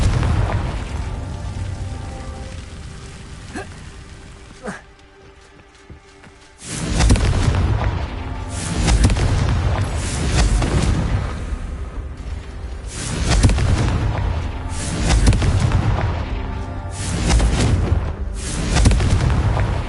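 Confringo blasting spell from a Harry Potter video game, a sustained roar of loud booming explosions with a brief dip in the middle before heavy rumbling blasts resume and continue to the end.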